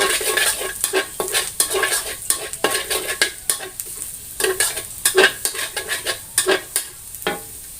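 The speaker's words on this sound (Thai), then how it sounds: "คนให้กระเทียมเราส่งกลิ่นหอมขึ้นมานะคะ" Garlic frying in a hot pan for stir-fried luffa with egg, stirred with a utensil: steady sizzle under quick, irregular scraping and clinking strokes against the pan, close and fairly loud, with no talk.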